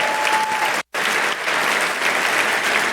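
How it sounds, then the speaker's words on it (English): An audience at a real estate event in Orange County applauds steadily, a dense, loud clatter of many hands clapping that continues nearly throughout with one brief dropout. "Let's give them a nice round of applause."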